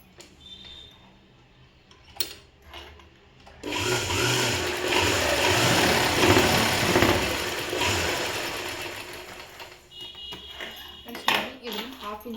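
A sewing machine stitching a boy's school uniform shirt hem, quiet handling at first, then a loud, steady mechanical run of several seconds that tapers into lighter clicks and taps.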